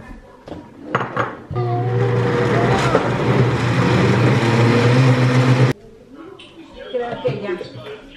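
Tomatoes are ground in a running blender or grinder for home cooking, a loud steady whirring hum for about four seconds, with talking and clatter before and after.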